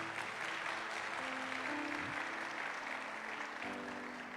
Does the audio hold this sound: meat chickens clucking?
no